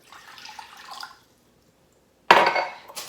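A cup of water poured for dandelion coffee, with a short trickling pour, then silence, then a louder, closer splash of water hitting the pot near the end.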